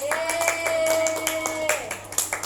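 A classroom of pupils claps for a correct answer, sounding as a quick burst of close, uneven hand claps with a voice speaking over the clapping.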